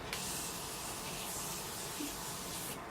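A long hissing spray of Morphe makeup setting spray blasts close by for nearly three seconds, then cuts off abruptly.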